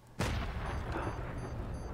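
A lightning strike in the video game Batman Arkham Knight, a sudden sharp crack like a gunshot followed by a rolling, fading boom that lingers for over a second.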